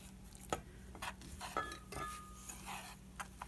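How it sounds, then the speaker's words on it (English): A fork whisking a homemade flour-and-water glue mixture in a bowl, producing a few quick scraping clinks and stirring taps over a short stretch, close and fairly quiet. "The tines in the fork work better than using a spoon because the tines in the fork give you kind of a whisking action."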